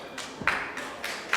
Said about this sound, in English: Keep the applause going, please, please, please, and please.